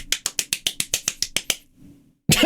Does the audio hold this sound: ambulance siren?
no